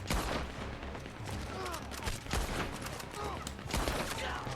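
Machine gun fire from a hillside gunner in the Western video game Red Dead Online, rapid crackling bursts of shots mixed with other gunfire, fairly loud and continuous across the clip.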